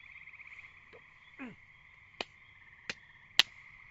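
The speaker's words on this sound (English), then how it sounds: "There's some frogs behind me in the swamp." Frogs in a swamp call against a steady high trill, with a few sharp isolated croaks and chirps popping out at intervals, fairly faint and distant.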